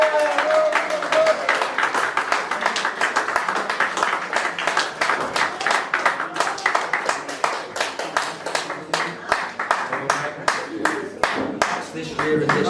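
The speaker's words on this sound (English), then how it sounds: "So Jazz, let's have a big cheer for him." A crowd at a school presentation claps and cheers for a student, the applause dense and lively at first, then thinning into scattered individual claps, with voices mixed in.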